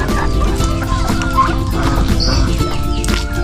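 Turkeys in a backyard pen making clucking, gobbling calls amid other farm fowl, loud and close over a busy, constant background of poultry noise.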